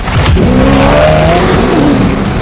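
A twin-turbocharged V8 supercar with a carbon fiber frame accelerates hard, its engine roaring loud and close as the revs climb through the whole burst.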